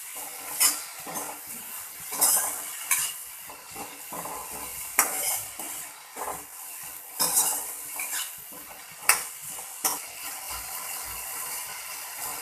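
Cut potato pieces tumbling into a cooking pan for Gujarati batata poha, with close metallic clinks and scrapes of a spoon against the pan in an irregular rhythm, a faint sizzle underneath.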